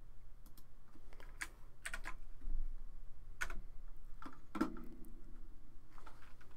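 Typing on a computer keyboard while installing Apache 2 on a Raspberry Pi, scattered quiet key clicks and taps at close range, with no talk.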